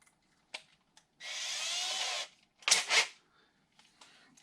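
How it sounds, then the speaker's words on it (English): A power drill used like a mill on a Collings C100 Deluxe acoustic guitar whirs steadily for about a second, preceded and followed by small clicks and knocks of handling, close by in a quiet space. "I can take this drill here"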